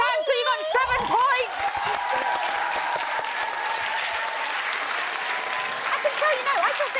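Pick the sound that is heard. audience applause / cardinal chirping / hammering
audience applause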